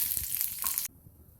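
Green chillies half-frying in a little oil in a kadai for besan-stuffed mirchi bhaji give a bright, steady sizzle heard up close that cuts off abruptly partway through.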